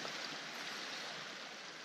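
Water from a small stream rushing across a hiking trail crossing on the North Fork National Recreation Trail in spring, a steady close wash of flowing water with no voices.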